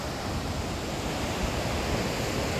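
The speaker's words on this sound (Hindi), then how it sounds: "ये पिंडर नदी बह रही है" The Pindar river rushes steadily past the Siyalkot spot in Dewal block, where a side stream joins it. A dense, continuous roar of water stays close and even throughout, with no voices.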